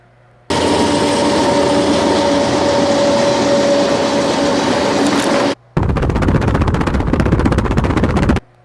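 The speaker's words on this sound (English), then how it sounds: "I like the sound of the locomotives and their engines running like that" BNSF locomotives roar past with engines running, a loud, steady diesel rumble and hum lasting several seconds, then after a brief cut a harsher rapid clattering as the train continues by close at hand.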